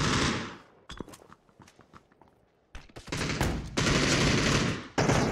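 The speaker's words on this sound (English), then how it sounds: "Amazing flashbangs from Raise Your Edge." Flashbangs burst during a PUBG match in loud, sharp, broadband blasts that alternate with quieter stretches and rapid clicks, with no voices.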